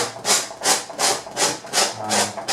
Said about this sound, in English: I scrape, as you see now, I scrape away